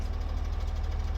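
A tractor engine idles in Farming Simulator 17 with a steady, low, pulsing rumble that holds at an even level throughout, with no talk over it.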